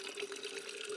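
Water runs steadily from a tap while filling containers at a campsite along the Gibb River Road, a continuous close splashing rush with no pauses and no talk.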